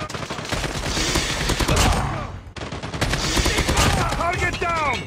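Dense automatic assault rifle fire in a multiplayer shooter video game, sustained rapid bursts with echoing reports and brief gaps, loud and continuous throughout.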